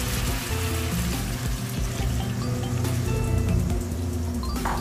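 Coconut milk (gata) pours steadily into a pot of chicken curry, a continuous liquid trickle and splash lasting several seconds amid low kitchen background hum, with no talking.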